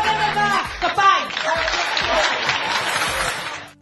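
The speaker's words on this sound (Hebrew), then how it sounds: "כפיים!" A studio audience at a Hebrew satirical comedy show breaks into applause mixed with laughter and cheering, a dense crowd sound that swells and then fades over a few seconds.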